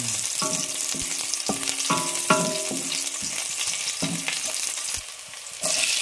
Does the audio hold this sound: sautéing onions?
yes